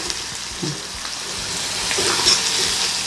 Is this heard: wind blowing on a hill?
no